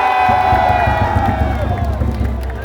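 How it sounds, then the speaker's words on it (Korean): A baseball stadium crowd roars and cheers for a Hanwha Eagles comeback during the fifth-inning rally, a loud, dense sustained wall of shouting voices with chanting under it throughout. "역전의 함성 발사!"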